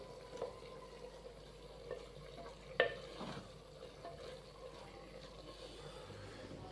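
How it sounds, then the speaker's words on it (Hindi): A carrot, cauliflower and peas sabzi gets stirred in a pan, giving faint, soft scraping and mixing sounds with one sharper clink partway through, quiet and close, with no talking. "इन दोनों चीज़ों को शामिल करके हम इसको इस तरीके से अच्छे से मिक्स कर देंगे।"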